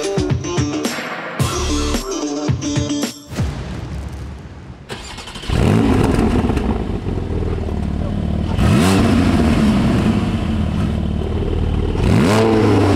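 Porsche 718 GT4 fitted with a modified exhaust and particulate filters removed, the engine revving hard in repeated rising blips after some clattering handling noises, loud and close with no talk.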